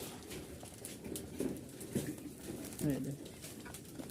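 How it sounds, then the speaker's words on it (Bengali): Rajshahi Giribaz pigeons in a loft cooing softly in a few short murmuring bursts, under someone speaking close by. "দেখছেন অনেক কবুতর এখানে"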